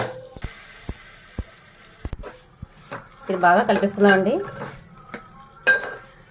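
A mustard seed and curry leaf tempering crackles as it is stirred into coconut chutney, with scattered pops, clicks and spoon scrapes up close, partly under someone speaking.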